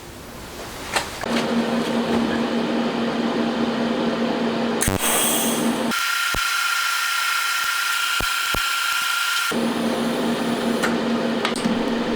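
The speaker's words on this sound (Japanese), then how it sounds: "はい、穴開いたので、あとはこれをここに入れて溶接します。" Welding on a small spring hook part for a Monkey engine being converted to a 124.4cc four-cylinder: a steady, close buzzing hiss with a low hum runs throughout, dropping to a thinner, quieter tone for a few seconds midway before resuming.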